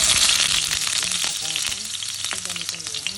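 Potatoes frying in oil in a kawali, a loud, busy crackling sizzle with popping bubbles, close and continuous without talk.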